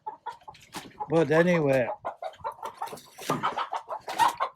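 Chickens clucking nearby around an old disused cellar, a string of short, choppy clucks scattered throughout, with someone talking over them for a stretch.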